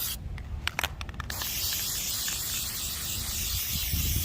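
An aerosol can of Plasti Dip sprays a coat onto a car emblem, a close, steady hiss running continuously after a few short rattling clicks at the start, with no voices.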